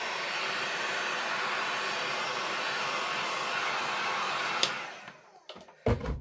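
A heat drying tool blows steadily over gold on a handmade autumn card, a loud continuous whooshing hum that cuts off near the end, followed by a few faint knocks.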